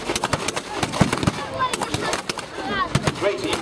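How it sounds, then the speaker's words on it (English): An MG-42 heavy machine gun fires at a World War II victory show, heard as a scatter of sharp, loud shots and short bursts with a commentator talking over the outdoor crowd. "MG-42, the most effective machine gun of the Second World War."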